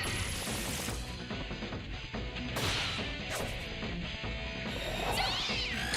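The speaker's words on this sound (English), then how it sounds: "these cats are more annoying than I remember" Cat enemies in SMT III: Nocturne yowl and meow in high, stretched cries over busy game music and sharp crashing hits, with several bright bursts spread across the stretch.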